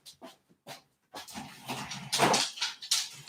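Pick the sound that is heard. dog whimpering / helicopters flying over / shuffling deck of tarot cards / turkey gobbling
dog whimpering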